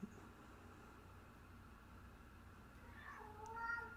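In a quiet indoor room, a house cat lets out a faint meow near the end, after several seconds of low background hiss.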